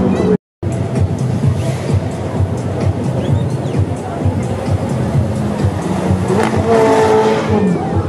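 A Porsche race car at a Red Bull F1 circuit show in Lima roars steadily, its engine noise dense and continuous, mixed with crowd chatter and voices.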